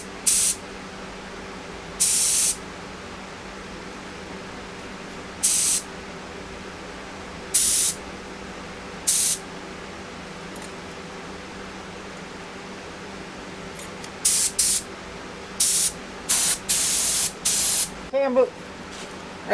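Cheap Harbor Freight purple HVLP spray gun spraying 2K clear coat onto a headlight: short, sharp bursts of loud airy hiss, spaced apart at first and then coming in a quick cluster of trigger pulls near the end, with someone talking between them.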